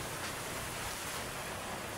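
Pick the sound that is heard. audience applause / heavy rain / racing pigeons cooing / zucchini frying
heavy rain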